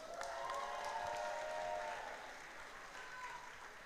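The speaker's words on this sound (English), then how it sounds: "A huge round of applause for these warriors." Crowd applauding and cheering at a junior K1 kickboxing event in a hall, a faint distant wash of clapping with whistles and crowd noise that eases off partway through.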